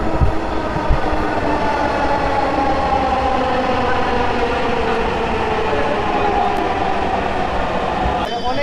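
A Dhaka metro train rolls into the station with a loud, continuous rumble and hiss that holds steady for nearly nine seconds, close by and dominating the platform.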